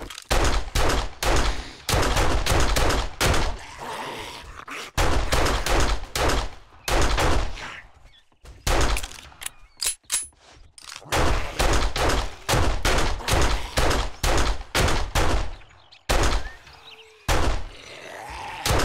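Pistol gunfire in the video game 7 Days to Die, loud close shots fired in rapid bursts with brief pauses between volleys, no talking.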